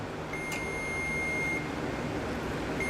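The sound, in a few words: multimeter continuity beep while testing a fuel gauge sending unit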